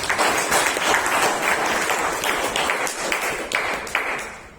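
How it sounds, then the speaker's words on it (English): Audience applause at a Toastmasters club meeting in Bangalore, a dense, steady wash of many hands clapping at close range that holds for several seconds before thinning out at the end. "Kamlesh again deserves a big round of applause"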